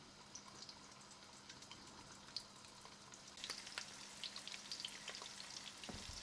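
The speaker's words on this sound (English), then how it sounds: "Now we will brown the quails or the batairs on all sides." Quails brown in hot oil in a large pot, a faint steady sizzle and crackle of frying that grows a little louder partway through, with no talking.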